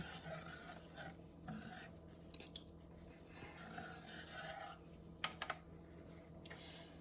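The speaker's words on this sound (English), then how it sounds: "Just kind of whisk or spoon that flour around, get it all mixed up in there." A whisk scrapes and swirls flour into cold water in a pot, making a faint, steady rubbing drawn out across the whole stretch, with a couple of sharper clicks against the pot near the end.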